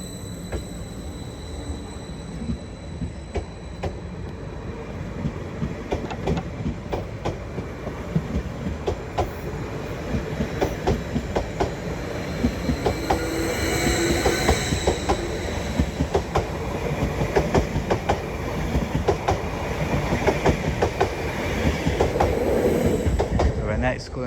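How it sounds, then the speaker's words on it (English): Greater Anglia unit 745010 pulls out of Ipswich station on a Norwich service, its wheels clattering and rumbling steadily and growing louder over about 24 seconds, with faint squeals and ambient station noise. "Now departing is 745010 on the 1439 Greater Anglia service to Norwich."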